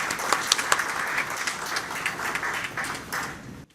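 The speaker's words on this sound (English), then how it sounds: "A round of applause to the European Commission with us today." A conference audience gives a round of applause, dense overlapping clapping that holds steady and then fades away at the end.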